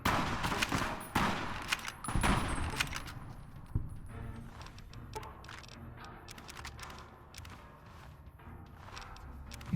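Gunfire in Fallout: New Vegas, with several loud sharp shots early on followed by fainter scattered cracks and clatter, close and punchy over low ambient noise.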